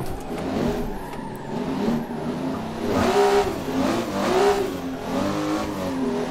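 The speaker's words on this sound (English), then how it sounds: "it's not easy not to bounce on the rev limiter because it's like so short the gear" An 800 hp Toyota Supra's engine revs hard in short first gear and repeatedly bounces off the rev limiter, a loud, close, stuttering roar that rises and falls in pulses over several seconds on a city street.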